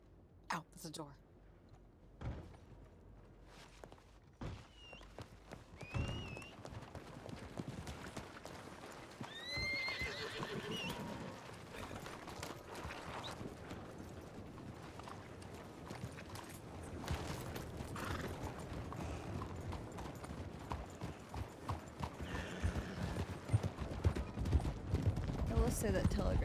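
A horse in a video game neighs with shrill whinnies and clip-clops along with steady hoof beats, while players talk over it and the galloping grows louder toward the end.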